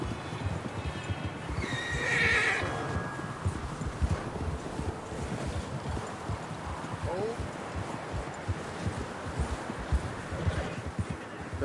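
A horse in the Western game Red Dead Redemption 2 trots with steady clip-clop hoofbeats throughout, gives a clear whinny early on, and is accompanied by quiet voices.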